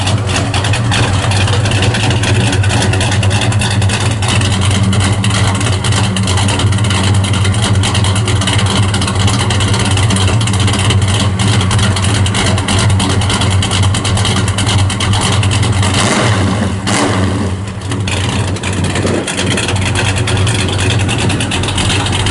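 A 1966 Plymouth Belvedere V8 with a Brody cam and full 3-inch exhaust rumbles loud and close in a deep, lumpy idle that holds steady, with a slight dip near the end.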